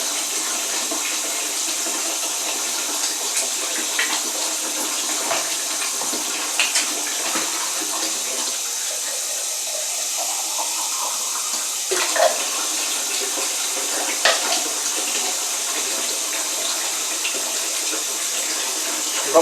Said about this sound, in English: I'm just going to top the jar up with a bit of water, put the lid on, and give it a bit of a shake.